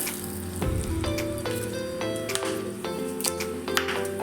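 Mustard seeds, cumin, dried red chillies, cinnamon and cloves crackle in hot oil as a tempering for Gujarati dal, with a steady sizzle broken by scattered popping and ticking, close and continuous without talk.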